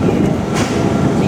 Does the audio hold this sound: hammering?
no